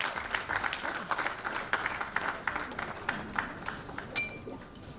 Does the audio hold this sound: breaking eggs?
no